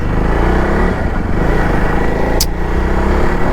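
A Jawa 42 Bobber motorcycle engine runs steadily and loud up close, a continuous low thumping drone with a brief burst of noise partway through.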